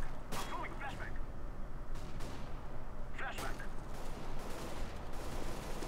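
A few scattered gunshots from the video game CS:GO crack out at separate moments, sharp and fairly distant, beneath someone commentating over steady game ambience.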